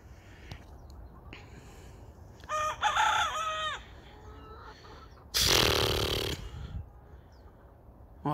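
A rooster crows several times in a row, loud and close, with long harmonic calls rising and falling over faint background rustle.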